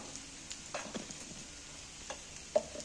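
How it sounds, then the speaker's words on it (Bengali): Spices and boiled potatoes frying in a pan for an egg curry, a soft steady sizzle broken by a few light scrapes and clicks of a spoon stirring through the mix. "এইবার আমি এই মশলাগুলোকে একটু ভালো করে নাড়াচাড়া করে নেবো"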